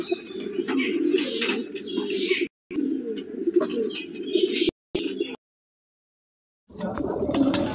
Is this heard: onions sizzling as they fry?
no